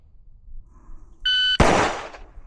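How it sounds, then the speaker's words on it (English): A shooting-range shot timer gives a short, loud electronic beep, immediately followed by a sharp, close gunshot that rings out and decays. "On the beep, fire the shot."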